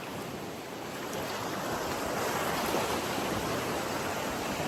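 Gentle sea waves at a beach in the Philippines wash in a steady, soft roar that swells slightly over time, with no voices.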